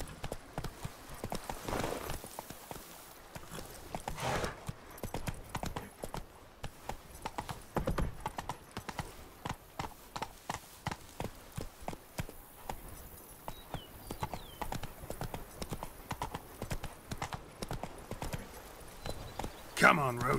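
Roach the horse in The Witcher 3 gallops with rapid, rhythmic hooves clip-clopping steadily for the whole stretch, with a short whinny near the start and a voice speaking over it at times.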